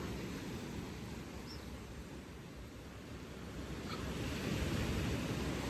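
Ocean surf rolls steadily onto Baie Rouge beach in St Martin, a broad continuous wash of breaking waves swelling slightly louder toward the end, with wind noise on the microphone and no voices.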